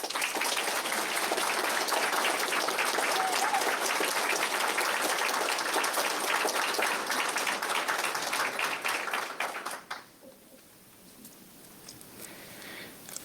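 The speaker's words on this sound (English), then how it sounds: "Could we please have a round of applause for Aircraft Woman" Steady audience applause for a veteran honoured at a Billy Bishop Museum event, a dense, even patter of many hands that lasts about ten seconds, then drops away to quiet room tone.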